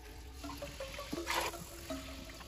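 Liquid pours and trickles briefly into a large pot used like a cauldron for a cucumber and mint limeade, a short close splashing stream over quiet background.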